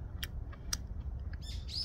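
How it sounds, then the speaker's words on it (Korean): Several short, high bird chirps scattered over a low steady background rumble, with a brighter warbling call near the end. "새소리도 나고."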